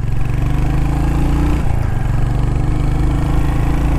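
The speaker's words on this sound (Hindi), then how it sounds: "एक तो बहुत ही थम्पी इंजन है, वाइब्रेशंस है ही नहीं" A 2025 Royal Enfield Hunter 350 motorcycle's 350cc single-cylinder engine runs close and loud with a steady thumpy beat, holding an even idle-like rhythm with a brief dip in pitch midway.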